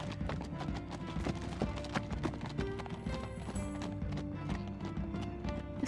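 Horses walk along in Minecraft Story Mode, their hooves making a steady, continuous clip-clop under a layer of game music and ambience.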